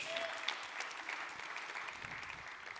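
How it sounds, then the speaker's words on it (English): Steady audience applause at a pitch competition award ceremony, a dense, even wash of clapping heard from a distance and sustained throughout. "Another round of applause."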